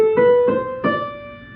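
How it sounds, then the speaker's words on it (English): A few clear notes of a D Dorian scale on piano keyboard, struck one after another in a brief rising run and left to ring, alone and fairly close. "a typical D Dorian scale sounds like this."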